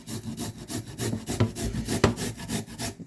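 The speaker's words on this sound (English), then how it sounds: "You can use the grater to grate it." Carrots are rubbed over a hand grater in quick, steady rasping strokes, each scrape close and distinct, a repeating scratchy rhythm with no one speaking.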